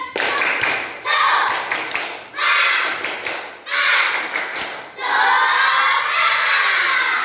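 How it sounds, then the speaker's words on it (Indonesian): A class of children does a rhythmic spirit clap together in a classroom, loud bursts of clapping and thumping in steady patterned phrases, with shouts mixed in and a long sustained clatter at the end. "kita tepuk semangat dulu yuk bersama-sama. Tepuk semangat."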